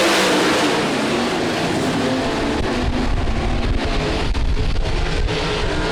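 Speedway race cars pulling away at the start of an eight-lap heat race, a loud, dense roar of several engines revving and accelerating together, close and continuous.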